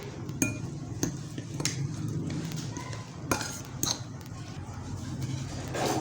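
A spoon mixing chicken and mayonnaise filling in a bowl, giving irregular close clinks against the dish with soft squishy stirring in between, moderately quiet and without talking.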